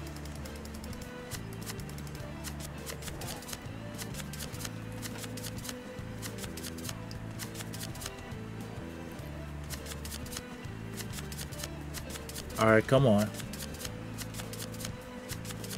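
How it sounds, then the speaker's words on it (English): Cards in a video game deck being shuffled in a rapid, continuous riffle of crisp flicks under a steady backing track, with a brief louder burst near the end and a few spoken words. "You don't gotta shuffle it that much"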